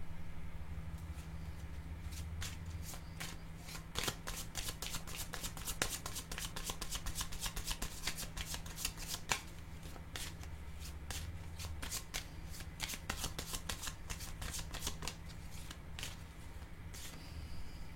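Tarot cards shuffled continuously by hand for a long stretch, a dense run of crisp riffling flicks and slaps up close, with a low steady hum underneath and no voices.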